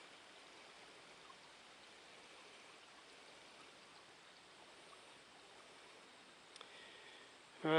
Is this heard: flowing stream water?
yes